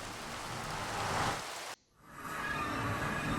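Steady hissing rain in the video game Minecraft cuts out abruptly for a moment, then a softer, airier wash of rain fades back in.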